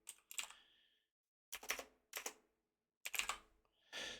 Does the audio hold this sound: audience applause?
no